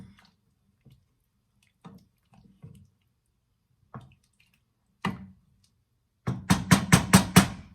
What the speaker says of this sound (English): give that a good little stir